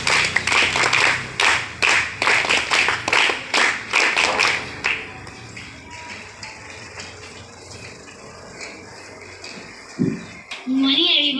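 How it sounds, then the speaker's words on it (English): A school morning assembly performs a scout clap: a string of sharp, evenly spaced group claps in unison over roughly five seconds, then a quieter stretch with faint room noise and a short burst of sound at the end. "Scout clap for the speech."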